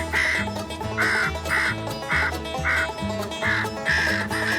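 A Fox Pro electronic caller plays crow calls at a winter crow hunt near Saint-Jean, Québec, producing loud, repeated nasal caws in a steady, overlapping stream with no pauses.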